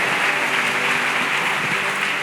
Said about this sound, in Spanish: Denle un fuerte aplauso de gloria a nuestro Dios.